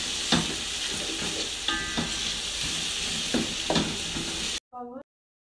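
Coriander and rice frying in a pan for dhaniya chole pulao, a steady broadband sizzle with spoon scrapes and stirring knocks spaced every second or so, stopping abruptly near the end with a brief faint sound after.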